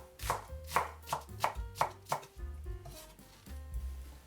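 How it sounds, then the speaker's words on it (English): A knife chops cucumber into sticks and minces salad leaves on a cutting board, with a steady run of crisp, evenly spaced strokes that loosen into lighter taps near the end. "cut 1/3 of cucumber into sticks. Mince a few salad leaves."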